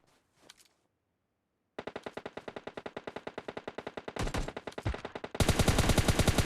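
Automatic rifle fire in PUBG Mobile Lite: rapid, evenly spaced shots in long sustained bursts, growing louder and denser toward the end, close and dominant with no talk.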